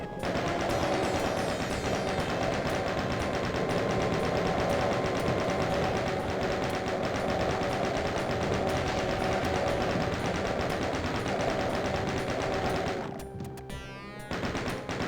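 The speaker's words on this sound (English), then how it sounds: "Alright, chain gun for this one." Chaingun firing nonstop in the 1993 shooter DOOM, a dense, loud rattling burst of rapid shots that runs for about thirteen seconds before cutting off into brief game effects.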